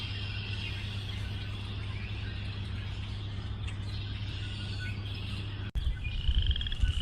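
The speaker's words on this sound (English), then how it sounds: "You can hear the chorus frog that sounds like running your thumb over a comb." Chorus frogs and leopard frogs calling at a vernal pool, a dense continuous chorus of trilling calls close by, with a low steady hum underneath and a brief dropout near the end.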